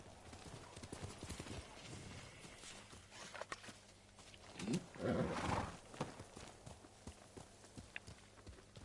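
A horse in the video game Ghost of Tsushima clip-clops along with hoof steps and a brief whinny midway, heard faintly over game ambience and without talk.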